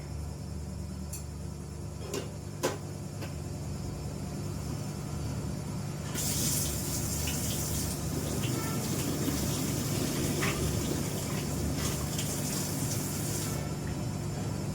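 Hot blanching water poured off drumsticks through a mesh strainer into a basin, a sudden spattering splash that swells in midway and runs steadily for several seconds, preceded by a few light clicks and kitchen clatter.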